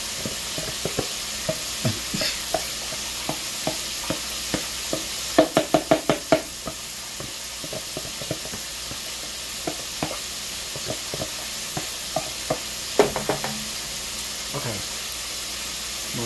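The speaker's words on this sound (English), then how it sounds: "My fried chicken is frying." Fried chicken sizzles in a hot pan in a home kitchen, a steady hiss of frying oil with scattered pops and a few quick bursts of clatter, continuous and fairly close with no talking.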